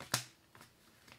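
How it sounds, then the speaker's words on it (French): Oracle cards being shuffled and put back, heard as one sharp papery riffle followed by two faint, brief card taps, close up in a quiet room. "Alors, je remets les cartes."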